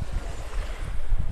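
Strong wind buffeting a microphone on Vanderbilt Beach in North Naples, Florida, a loud rumbling gusty roar throughout the short stretch with no talking.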